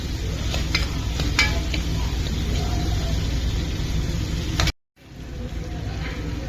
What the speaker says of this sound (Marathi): टोमॅटो टाकते। मीठ, मसाला छान तळून घ्यायचा।